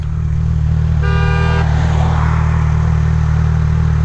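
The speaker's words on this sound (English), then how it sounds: "What are you honking at?" A single short car horn honk sounds in morning traffic, loud and close, over the steady low rumble of an idling engine.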